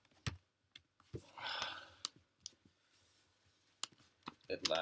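Scattered clicks of a MacBook keyboard being typed on, irregular keystrokes with pauses between them, fairly close and quiet.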